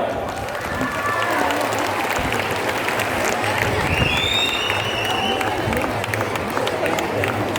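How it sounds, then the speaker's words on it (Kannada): Steady, dense applause from an audience at a Yakshagana prize ceremony, with crowd murmur and a few raised voices mixed in throughout. "ಆ ಚಪ್ಪಾಳೆ ಚಪ್ಪಾಳೆ"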